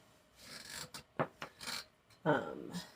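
Parts are being worked out of a bicycle bottom bracket, with scraping, rasping metal contacts and a few sharp clicks in separate bursts, close by at moderate level.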